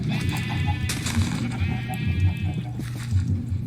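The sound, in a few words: sheep bleating in the video game Minecraft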